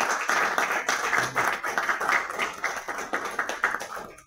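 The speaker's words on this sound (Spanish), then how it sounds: "Un fuerte aplauso, por favor." An audience at a book presentation in a club hall claps, with individual claps distinct and uneven in a moderately loud round that thins out near the end.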